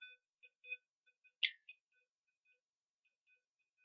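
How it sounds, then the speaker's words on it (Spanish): Buzzer on a clinical thermometer diagnostic system, short faint electronic beeps repeating in an irregular series with one slightly louder chirp, heard alone in quiet. "Todavía se sigue activando el LED y el zumbador."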